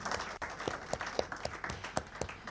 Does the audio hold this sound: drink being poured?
no